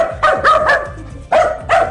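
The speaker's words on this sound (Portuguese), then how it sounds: "do Duque, um cachorro muito revoltado." Dog barking repeatedly on a live TV broadcast, a burst of three sharp barks followed by two more after a short pause, loud and close.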